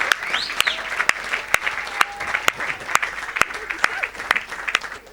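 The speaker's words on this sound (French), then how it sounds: "Acclame." An audience at a church sermon claps in a steady rhythmic beat, evenly spaced sharp claps carrying on throughout, with voices and a crowd murmur underneath.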